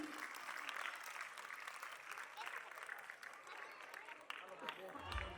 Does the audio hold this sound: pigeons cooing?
no